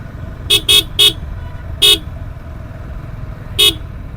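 Car horn honks on a winding mountain gap road: a quick burst of four toots, a pause, then one more, each short and loud over low engine and road rumble.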